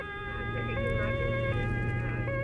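An emergency vehicle on an Autobahn sounds its siren on an alarm run. The steady electronic wail is loud and close over the rumble of the road, with no voices.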